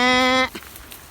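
A single loud, drawn-out bleat with a rich harmonic tone lasts about half a second, followed by quiet background rustling.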